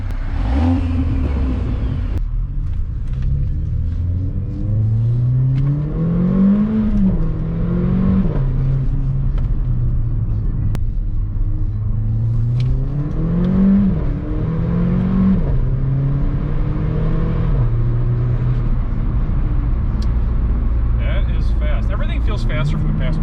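An SUV crossover engine heard from the back seat rises and falls through several revving surges, a droning whir filling the cabin, with people talking over it.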